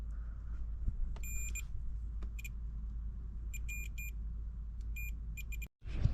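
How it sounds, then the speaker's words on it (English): A continuity tester probe touching a wire gives short high electronic beeps in irregular bursts over a low steady hum, during wiring work on a Suzuki Cara Autozam AZ-1 kei car. "you can hear the beeping."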